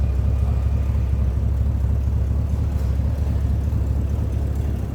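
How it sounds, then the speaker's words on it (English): Steady low rumble of a 1966 Ford Mustang GT convertible's 289 V8 idling with a mild exhaust and no big cam, continuous and fairly loud from close by, with no voices over it. "Just a little rumble coming out of that 289."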